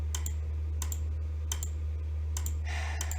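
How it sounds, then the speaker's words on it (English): Sharp computer mouse clicks arrive in small clusters of two or three, spaced irregularly, over a steady low electrical hum with no talking. "I'm going to click a lot"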